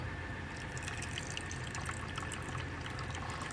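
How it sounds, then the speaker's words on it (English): Hot coffee is poured slowly into a cup over ice at a cold campsite, a steady faint trickling and gurgling stream running throughout. "I'll go ahead and put some hot coffee in to kind of melt some of the ice that's frozen down there"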